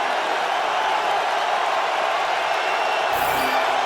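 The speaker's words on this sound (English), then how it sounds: "check out the crowd." Stadium crowd at a 2006 NFL game between the Indianapolis Colts and Jacksonville Jaguars, a loud, steady, wide roar that holds evenly throughout with no clear talk on top.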